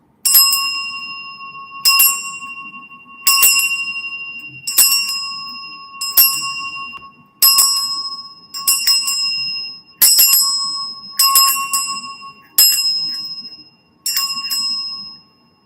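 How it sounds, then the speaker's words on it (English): A hand bell rung repeatedly to clear magical items, about eleven bright metallic strikes at a steady pace, each ringing out and decaying before the next, close and loud with no talking. "use the bell."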